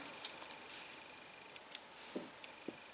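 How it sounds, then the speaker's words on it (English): Scissors snip through crochet yarn in a few short, crisp cuts close by, with quiet pauses between the clicks and no talking. "then you can cut your yarn"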